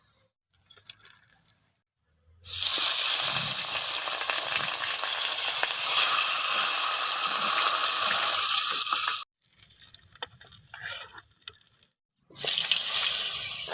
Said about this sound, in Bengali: মাছটা কিন্তু ভাজতে অনেক টাইম যাচ্ছে কারণ আমি মাছগুলোকে আজকে পুরো কড়া করে ভেজে নিচ্ছি